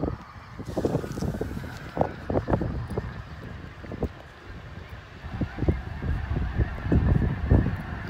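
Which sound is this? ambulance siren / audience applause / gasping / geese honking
geese honking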